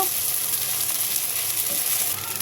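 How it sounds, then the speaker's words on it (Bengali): Sago pearls frying and being stirred slowly in hot ghee in a pan, giving a steady, close, even sizzle that holds throughout with no talking. "আস্তে আস্তে নেড়ে নেব।"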